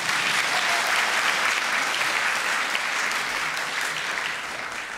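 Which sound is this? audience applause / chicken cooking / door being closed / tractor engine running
audience applause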